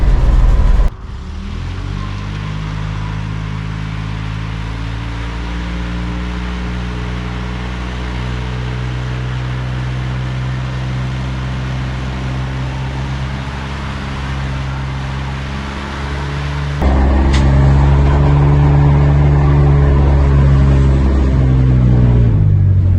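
A Buick V8 car with a spool rear end holds a loud, steady engine roar with strong harmonic drone, then jumps even louder near the end as revs climb in a burnout.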